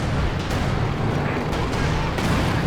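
Artillery fire in the strategy game Company of Heroes 2, including a howitzer shot: a loud, continuous rumbling barrage with dense, booming noise and no clear pauses.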